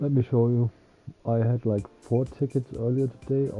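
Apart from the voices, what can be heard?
No everyday noise stands out behind the speech.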